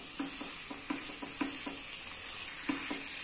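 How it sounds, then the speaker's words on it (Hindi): Marinated chicken frying in spices in a pan over a high flame, a steady close sizzle broken by rhythmic spatula scrapes and taps roughly every quarter second, with no voices. "1 मिनट तक अच्छे से मसालों में चिकन को हाई फ्लेम पे भून लेंगे।"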